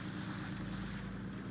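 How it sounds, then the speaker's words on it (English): An approaching contact airplane gives a steady, droning propeller engine rumble that holds even and fairly loud throughout the short stretch, with no talking. "Contact plane approaching on schedule."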